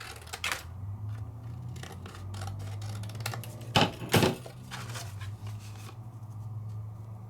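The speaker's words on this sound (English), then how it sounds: "What if I cut this off?" A piece is snipped off a Find It Trading Dot n Do craft kit with scissors, giving a run of light clicks and crisp cuts up close, with two louder snips in the middle and no talking.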